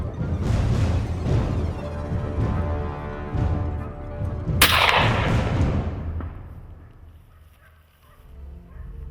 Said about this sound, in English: The boar was taken down with a single shot.